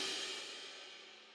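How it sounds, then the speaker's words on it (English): Orchestral crash cymbals (piatti) from a percussion sample library, one bright splashy hit that rings and decays over about a second, heard alone. "And I have piatti, just, you know, crash cymbals."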